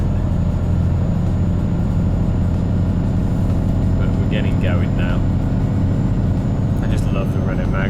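A Renault Magnum truck engine in Euro Truck Simulator 2 drones steadily and low throughout, a constant rumbling hum with faint higher tones drifting above it.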